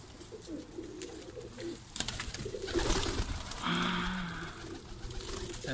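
Newly brought pet pigeons coo repeatedly at close range, low rolling calls recurring across the stretch, mixed with wing rustles and a sustained tonal background sound in the later part.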